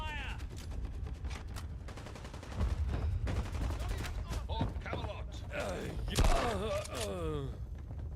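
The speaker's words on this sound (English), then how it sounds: "Give me cover fire." Gunfire in the Fallout: London video game, a loud burst of shots near the start and more bursts through the middle and end, heard under steady talk.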